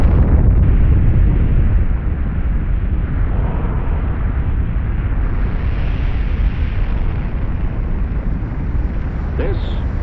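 A nuclear bomb test of Operation Crossroads at Bikini Atoll thunders as a sustained, heavy roar that stays loud and dense throughout, muffled in the low end like an old archival recording.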